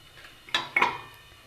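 A marinated chicken pot is set onto a lit stove, two quick metallic clanks of cookware close by, then a fading ring in a quiet room.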